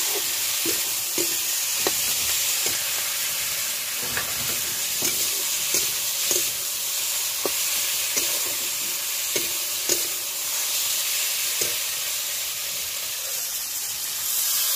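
Tomato and green chillies sizzle steadily in a pan in a village kitchen, with a spatula scraping and stirring in irregular clicks over the constant frying hiss.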